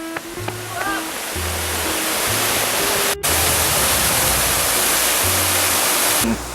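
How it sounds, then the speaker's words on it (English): Hawaiian waterfall roaring as a steady, loud broadband rush that fills the whole clip, with a faint tonal whistle or voice fragment early on and a brief dropout midway. "Waterfall, that's why we came here!"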